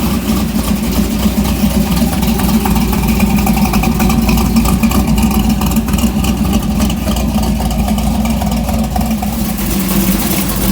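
1968 Dodge Dart drag car with a 750 double pumper carburetor idling: a loud, steady, lumpy rumble that holds throughout, close up, with no talk.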